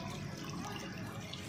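Water splashed onto a carbon fibre helmet, a steady close hiss and patter of liquid that runs continuously for the short span.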